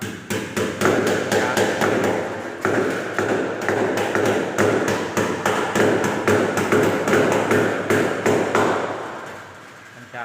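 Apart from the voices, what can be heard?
hammering nails into cement wall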